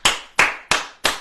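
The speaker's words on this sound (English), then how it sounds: "Round of applause." Four sharp, evenly spaced hand claps ring out close and loud, each a crisp single snap followed by a brief decay.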